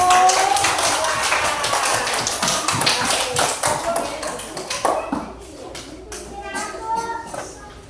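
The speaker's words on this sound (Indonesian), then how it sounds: "Kita tepuk tangan dulu untuk kelompok 1." Fourth-grade pupils in an Indonesian classroom clap for a group of classmates, a lively burst of scattered hand claps lasting about five seconds before fading, with voices continuing afterward.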